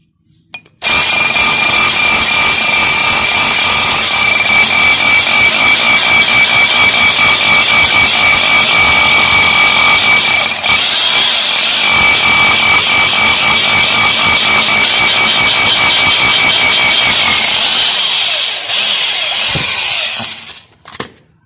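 A power drill bores a hole into a brick for a rawl bolt anchor, one loud continuous high-pitched grinding whine lasting nearly twenty seconds before winding down and stopping.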